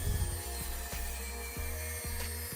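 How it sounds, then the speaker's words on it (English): A table saw trims the rough edges off a deep-pour epoxy coffee table slab: a steady motor drone with a few knocks and bumps spaced about half a second apart. No one speaks. "A couple nice and easy passes on the table saw took off all of the rough edges"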